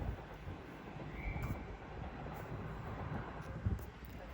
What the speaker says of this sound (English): Soon to arrive in now is the 10:44 South Eastern service from London Charing Cross to Tunbridge Wells